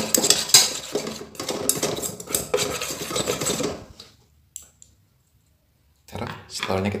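Food being stirred with oil in a pan, giving a steady scraping, clicking and sizzling rattle of a utensil against the cookware that is close and fairly loud, then a short silence before the scraping starts again; a voice talks over it.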